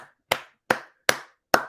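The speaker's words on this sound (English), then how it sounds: "Clap it up, man." Four sharp, evenly spaced hand claps ring out close and loud, each with a short decay, with no talking.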